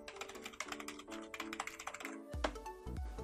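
Keys clatter in quick, uneven bursts on a Piranha 2345 gaming keyboard, a cheap non-mechanical model, close and fairly loud, with no voices.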